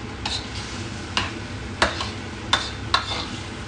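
Mapo tofu ingredients frying in a hot pan and being stirred, a steady sizzle under five sharp scraping strokes of a utensil against the pan, close and clear with no talking.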